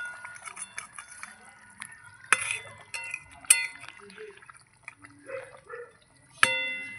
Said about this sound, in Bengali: একটু উল্টিয়ে দেবো মাছগুলোকে, যাতে মাছগুলো দুদিকেই ভালো সিদ্ধ হয়